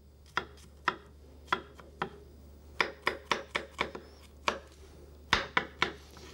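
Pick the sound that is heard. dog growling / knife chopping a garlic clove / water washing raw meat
knife chopping a garlic clove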